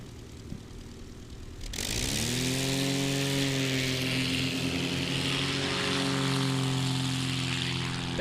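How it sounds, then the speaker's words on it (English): Cub Crafters X Cub light airplane at a STOL competition, its propeller engine roaring up loud and close after a brief quiet start, then holding a steady, droning tone with strong harmonic whine. "coming to the line again here, we got Chuck Kinberger in his Cub Crafters X Cub"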